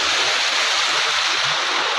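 Water flowing steadily at an outdoor film shooting location, a loud, continuous rushing wash heard close up with no voices.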